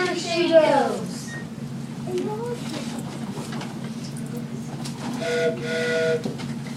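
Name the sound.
boatswain's whistle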